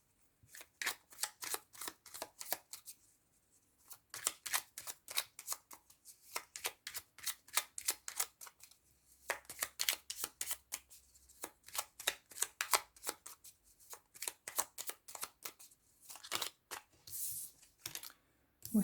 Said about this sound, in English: I'll draw the tarot cards and then I'll